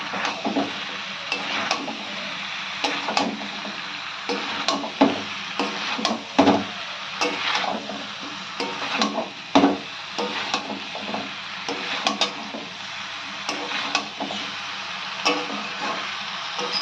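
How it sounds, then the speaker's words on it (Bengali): Vegetables being mixed with spices in a pan for shahi sabji, a spoon scraping and clattering against the metal in irregular strokes under a faint sizzle, with no talking. "ভালো করে মশলার সঙ্গে মিশিয়ে নিতে হবে সবজিগুলোকে।"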